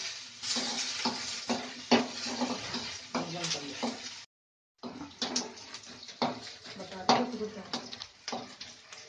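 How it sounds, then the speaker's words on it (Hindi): Chopped onions frying and being stirred in a pan for a homemade sweet-and-sour raw mango dish, a steady close sizzle with spoon scrapes, briefly cutting out midway. "बस प्याज को अच्छे से भून लेना है"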